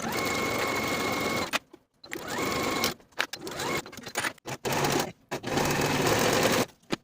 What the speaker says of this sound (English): Sew this seam with a 5/8 inch seam allowance, finish the raw edges, and press the seam up toward the bodice.